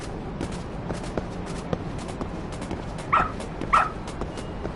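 A working dog, apparently on a search, gives two short, fairly close barks near the end amid outdoor background noise and scattered faint clicks.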